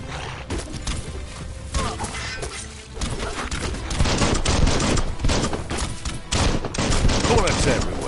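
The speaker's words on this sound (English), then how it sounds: "Bullets everywhere." Rapid gunfire in the action video game Biomutant, dense bursts of shots and impacts over a rumbling game soundscape, fairly loud and continuous.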